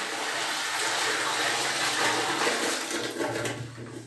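Water from a filled bucket pours straight into a clogged toilet bowl, a steady loud gush and splash rushing for about four seconds before tapering off slightly at the end.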